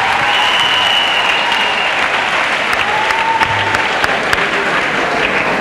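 A church congregation applauds for Jesus Christ, steady dense clapping that fills the room for several seconds without pause, loud and close, with a faint murmur of voices underneath.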